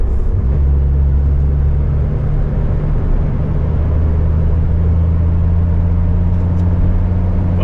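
A Dodge Viper cruising on the road, its engine giving a loud, steady low drone with a deep rumble and road roar that holds evenly throughout with no speech.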